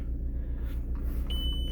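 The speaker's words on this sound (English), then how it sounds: "I'll let the airbag light, well, airbag beeping get over and done with" Airbag warning chime inside a VW MK4 GTI 1.8T, a single thin, steady electronic beep starting partway through over a low idling engine hum, faint and close.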